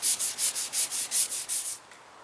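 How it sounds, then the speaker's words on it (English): Canoe hull being wet sanded by hand with fine-grit wet-or-dry sandpaper: about ten even rhythmic scrubbing strokes, close and fairly loud, then a quiet pause, no talk. "This will get followed up with 500 grit and then 1000 grit, wet or dry, all wet sanded."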